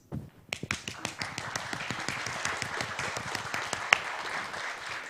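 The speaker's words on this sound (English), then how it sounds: "The song celebration needs some clapping, so let's try a little bit to warm your hands." An audience at a singing and dancing celebration evening claps to warm up their hands, scattered claps quickly building into lively, fairly even group clapping with sharper individual claps standing out.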